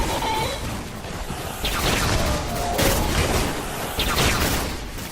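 A Bad Juju pulse rifle in the video game Destiny fires in repeated bursts, several sharp crackling volleys spaced about a second apart over dense, loud in-game background noise.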